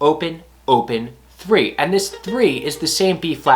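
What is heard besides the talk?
No distinct noise like a dog, phone or traffic.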